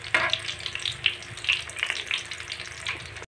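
Fish (tulingan) and meatballs sizzling steadily in hot frying oil for escabeche, a close, continuous crackling fry with small popping bursts throughout and no talk.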